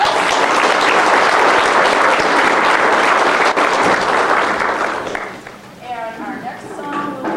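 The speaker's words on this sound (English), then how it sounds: "Let's give them an applause." Loud, dense applause from an audience for beginner elementary school instrumental musicians at a 1997 holiday concert. It holds steady for about five seconds, then fades, and quieter voices and tonal sounds follow.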